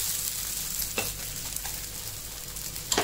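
Poha dosa frying in a pan after being flipped, a steady close sizzle with a crackling hiss that runs throughout, broken by a couple of brief spatula scrapes.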